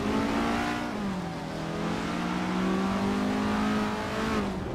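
A classic Porsche 356C race car in a racing video game, its engine droning steadily and rising and falling in pitch as it revs through the gears, loud and continuous.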